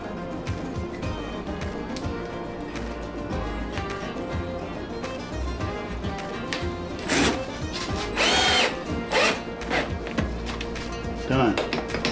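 A power drill driving screws to mount a heavy-duty wall-mounted manual can crusher, heard in several short loud whirring bursts over a steady background of music-like tones.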